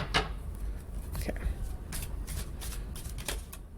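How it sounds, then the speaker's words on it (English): A tarot deck being shuffled by hand, with quick riffling bursts and soft card slaps repeating throughout at close range. "I'm going to shuffle more."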